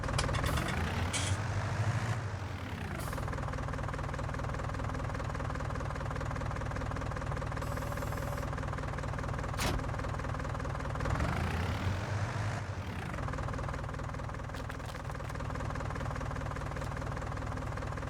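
A tractor engine in a farming simulator game drones steadily and loudly throughout, with a heavy mechanical rumble that surges twice as the machine works, and no voices over it.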